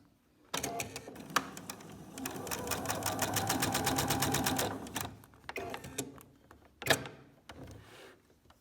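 A sewing machine with a misthreaded thread path runs in a fast, rhythmic clatter for several seconds, then stops, followed by a few scattered mechanical clicks and thumps nearby.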